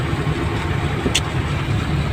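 Car engines idle in slow street traffic in a town centre, a steady low rumble close by with a faint brief chirp partway through.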